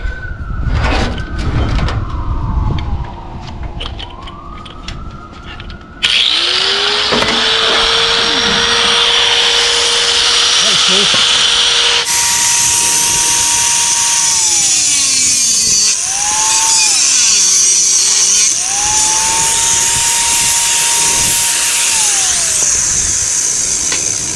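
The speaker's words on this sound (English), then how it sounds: "Need to trim this little edge off here." Sheet metal on a hot rod body being trimmed with a power tool, a loud, sustained high-pitched whine that shifts pitch as the tool loads and unloads, with sharp starts and long steady runs.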